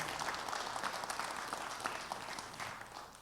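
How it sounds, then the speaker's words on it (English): An audience at a space flight lecture event applauds volunteers, a steady wash of many hands clapping at moderate, fairly distant level with no talk over it. "A big round of applause for them."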